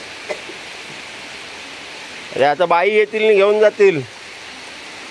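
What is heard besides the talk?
heavy rain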